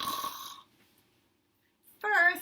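Snoring is imitated by a human voice reading a children's story about a sleeping bear, with two raspy, breathy snores separated by a long silence.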